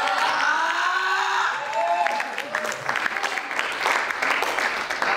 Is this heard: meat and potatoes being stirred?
no